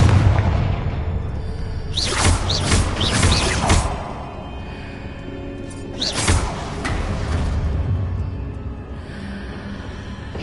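Confringo blasting spell going off in the Hogwarts Legacy video game: two loud booming blasts with whooshing bursts and rumbling tails over a steady low game-ambience hum, no talk.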